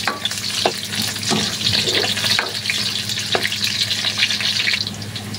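Ginger, garlic and onion fry in hot oil in a pan for an adobong pinatuyo, giving a steady loud sizzle with a few soft stirring clicks and no talk.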